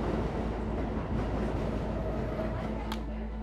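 A subway car rides along with a constant loud rumble and rattling of wheels on track, with a low steady hum underneath and a brief squeal near the end.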